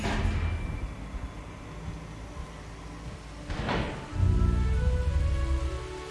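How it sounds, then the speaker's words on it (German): Rain falling in the dinosaur park game Jurassic World Evolution, a steady hissing patter that swells near the end, with a brief heavier rush partway through and no voices. "Oh, es regnet, ne?"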